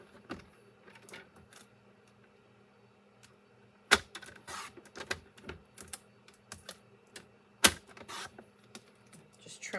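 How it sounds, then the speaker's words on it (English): Paper is trimmed to fit a scrapbook page: quiet, close snips and small clicks scattered unevenly, with a couple of sharper cuts standing out against a near-silent background. "Just trimming it up until it fits in there the way I want it."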